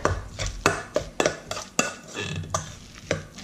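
Shrimp and crab stuffing being mixed together in a bowl for stuffed flounder: close, irregular clinks and wet scraping thuds of a utensil against the bowl, about a dozen sharp knocks with softer squishing between.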